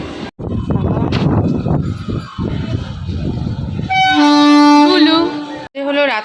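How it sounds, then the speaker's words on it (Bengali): A train passing beneath a bridge at night sounds a loud, sustained horn after a stretch of people talking, then gives a second short blast near the end. "নিচ থেকে ট্রেন যাচ্ছে তাই মনা উপর দিয়ে যেতে ভয় পায়"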